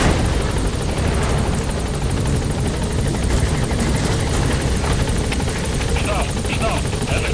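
Support helicopter arriving in the video game Metal Gear Solid V: The Phantom Pain, a loud continuous rotor roar with steady thumping beneath radio chatter and voices.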